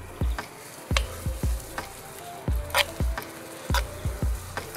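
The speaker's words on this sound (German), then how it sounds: "Zwischendurch gucke ich immer auf die Pfanne hier, dass da nichts anbrennt." Porcini mushrooms fry in a pan while a utensil stirs them, giving a steady low sizzle broken by a regular series of sharp knocks and scrapes against the pan, close up, with no talking.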